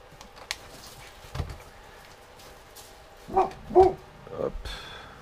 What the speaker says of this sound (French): il y a les chiens qui aboient parce qu'il y a les voisins qui passent